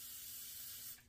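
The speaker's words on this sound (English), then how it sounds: "I'm going to spray this rag down with the WD-40" WD-40 sprayed from an aerosol can onto a rag, a steady close hiss lasting about a second before cutting off.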